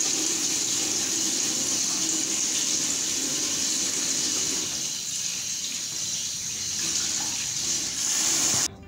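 Tap water runs steadily into a sink while hands are washed after removing gloves in a clinical skills lab, a close continuous hiss and splash with slight changes in texture, ending abruptly as the flow stops.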